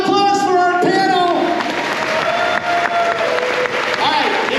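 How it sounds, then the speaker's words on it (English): Audience at a Busch Gardens Howl-O-Scream passholder Q&A applauds its panel, steady crowd clapping with some cheering, under loud music and voices that fade into a busy background. "Ladies and gentlemen, a round of applause for our panel!"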